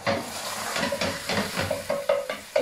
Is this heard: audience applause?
no